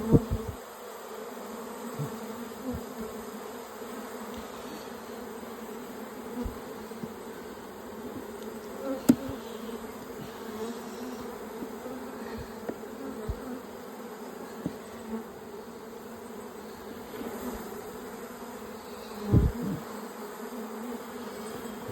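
A dense, steady drone of honeybees buzzing close up inside an open hive during inspection, continuous and low, with a few brief knocks and taps.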